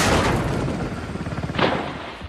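A loud, continuous burst of rapid police gunfire in the film Monkey Man fills the clip, with a second sharp volley near the end.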